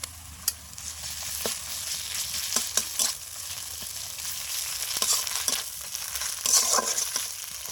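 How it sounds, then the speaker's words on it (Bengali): Ginger paste hits a hot frying pan and sizzles steadily, a close, continuous frying hiss with scattered faint clicks of stirring throughout. "এবার আমি আদা বাটা দিচ্ছি।"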